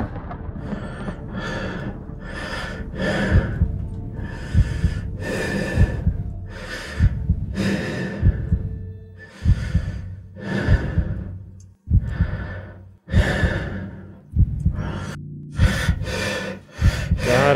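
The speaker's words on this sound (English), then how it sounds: "I hate listening to breathing." A game character in the space-capsule survival game Tin Can breathes heavily in repeated loud cycles, each inhale and exhale clearly audible with short gaps between, close and alone with no talk.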